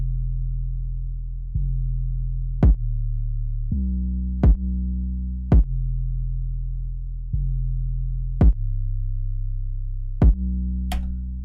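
Sustained synth and 808 notes in a hip-hop instrumental remake, sidechained to a kick, so each note ducks and swells back in a steady rhythmic pumping under sharp periodic clicky hits, loud and without voices.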